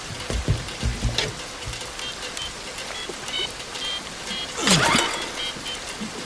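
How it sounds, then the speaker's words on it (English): Rain and water splash and patter against a boat hull, with a louder slap of water near the end over a steady wet background. "all the sound effects of the water hitting the boat"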